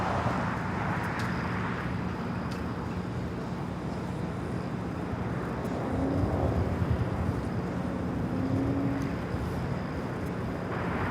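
At Los Angeles airport, a jet airliner lands in a steady, broad roar of engine and rushing air heard from a distance, swelling slightly partway through.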